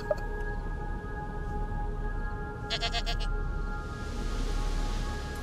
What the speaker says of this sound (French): Des chèvres.